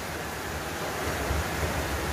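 Strong wind blowing steadily outdoors behind a house in rural Derby, Western Australia, a loud continuous roar with no speech.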